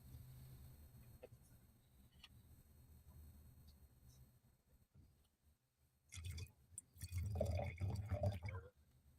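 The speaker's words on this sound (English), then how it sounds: "The sound of wine pouring." Wine splashes and gurgles into a glass in short bursts near the end of a quiet home kitchen scene, after faint drips and soft clinks.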